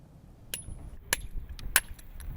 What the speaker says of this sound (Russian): Молотком и зубилом будущий мастер-каменщик Бердлянов пытается укротить эту частицу гор